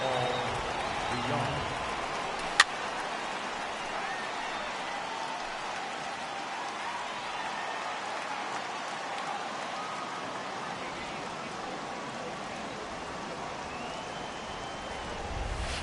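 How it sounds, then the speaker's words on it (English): Heavy rain pours in a steady, dense hiss during a baseball video game broadcast, constant throughout with one sharp click early on and no words spoken in the clip. "that rain is really coming down right now"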